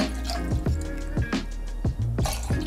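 Lemonade poured into a cup for a cold brew coffee drink, with short liquid splashes and drips arriving in several bursts, close and clear, with no talking.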